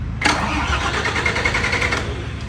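A Toyota 6UZ V8 engine that has sat unused for a long time cranks briefly, then catches and settles into a loud, steady idle up close, with no talking.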